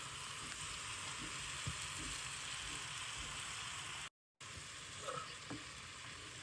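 Broccoli stirred in a hot pan while cooking shrimp alfredo, giving steady close sizzling and frying with faint scraping stirs throughout and a brief dropout near the end.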